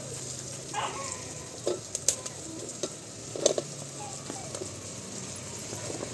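Onion and potato sauté in a pan on a wood-fired stove with a faint, low sizzle. Scattered clinks and stirring knocks sound over it, and birds call in the background.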